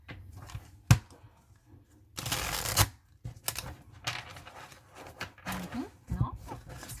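Tarot cards being shuffled by hand, short papery riffles and slaps in irregular bursts, fairly close and quiet, with a voice talking at moments.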